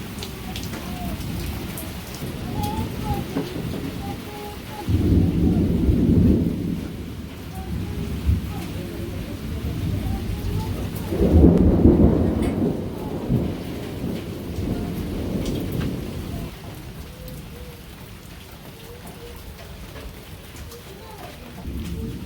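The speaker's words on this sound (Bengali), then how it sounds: "এত সময় খুব জোরে বৃষ্টি আসলো" Heavy night rain drums steadily while thunder rolls in twice, with deep rumbles swelling loud and near before fading back into the constant downpour.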